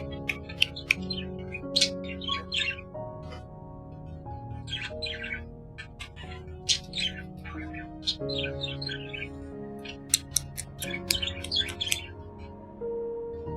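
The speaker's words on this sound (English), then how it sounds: "There's a very happy bird as well" A pet bird chirps and tweets indoors in quick, bright bursts scattered over a steady background of game music, lively throughout, with no talk.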